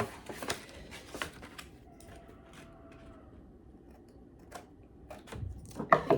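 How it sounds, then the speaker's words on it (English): Several crisp snips and clicks of scissors cutting excess paper while making a journal, irregular and close, with quieter rustling between cuts. "I'm going to take my scissors and cut off all this excess."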